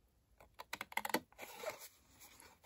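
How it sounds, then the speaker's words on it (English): Several quick, crisp snips and rustles of long scissors cutting paper along a score line, close and quiet, followed by soft crinkling. "So I'm going to cut up that score line"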